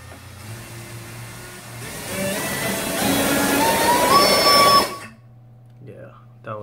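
A brushless RC motor on an RCbenchmark 1580 thrust stand spins up, its whine rising in pitch and loudness over several seconds. Then it stops abruptly, with faint voices before and after.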